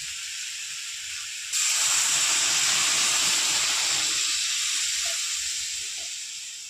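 Water poured into a hot pan of spice-fried potato, pointed gourd and radish sets off a sudden loud, steady sizzle and hiss that slowly fades over several seconds.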